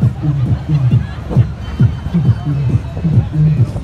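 A beatboxer on a London street imitates muffled nightclub music heard from outside, with a thumping bass pulse and dull droning tones repeating in a steady loop, loud and close over light crowd murmur.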